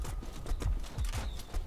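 Horses' hooves clatter in a London tournament jousting video game, a quick run of low thudding clip-clops repeating at an uneven gallop rhythm, fairly close and steady in level, with no talk over them.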